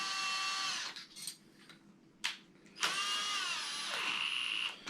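A power drill whines loudly at full speed boring holes in pine or cedar for a bench, stops briefly, then spins up again in a long sustained burst, close by with no talking.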